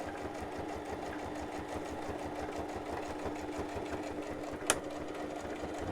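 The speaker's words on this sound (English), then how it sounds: "so we can move the sewing machine now" A sewing machine runs at a steady rapid stitching rhythm, faint and continuous, with a single soft click near the end and no talking.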